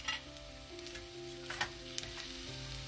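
Finely chopped garlic fries in oil with a soft, steady sizzle and a few light stirring clicks, quiet and brief, with no one speaking.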